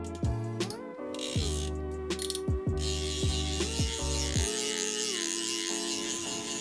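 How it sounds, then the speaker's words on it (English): Drag clicker on a Loongze Airlite baitcaster fishing reel, giving a run of sharp mechanical clicks in uneven bursts with a steady hum underneath and no talking. "And then here is the drag clicker."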